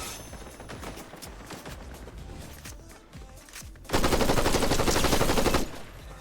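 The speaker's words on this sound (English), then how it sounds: "Who's shooting me?" Sustained rapid gunfire in the online game Guild Wars 2, a dense automatic rattle that runs throughout and swells into a louder, harsher burst near the end, with no voices over it.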